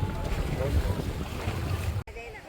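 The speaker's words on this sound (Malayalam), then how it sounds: "നമ്മുടെ ഉള്ള ബോട്ട് യാത്ര കെങ്കേമമായിരിക്കുന്നു" A motorboat rumbles across open water with wind buffeting the microphone and spray noise, steady and loud until a brief cut near the end.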